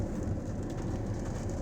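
Steady rain hisses continuously, an even wash of drops with no voices.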